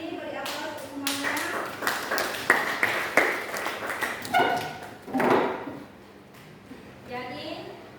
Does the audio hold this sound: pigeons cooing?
no